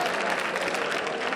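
Audience applause at a high school hypnotist show, a dense, steady clapping from a crowd, moderately loud and continuous throughout.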